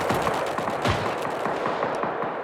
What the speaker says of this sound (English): Looks like people are shooting up here